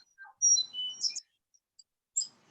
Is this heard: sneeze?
no